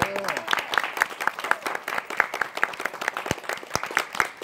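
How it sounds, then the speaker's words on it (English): At a fan convention, the audience claps for the AV crew, a lively round of distinct, fairly close handclaps with a brief voice at the start, the claps staying sharp and rhythmic throughout. "can we give a round of applause to them for a great job?"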